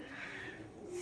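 Faint, low cooing of pigeons at dusk, a soft sustained murmur heard from a distance against quiet background noise, with no talking.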